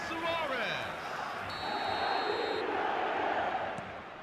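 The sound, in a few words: stadium crowd roaring after a goal in eFootball video game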